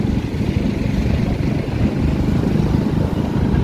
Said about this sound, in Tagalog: Maraming traffic to ngayong umaga.